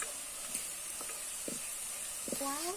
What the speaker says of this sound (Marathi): तिखट चांगला परतून घ्यायचा आहे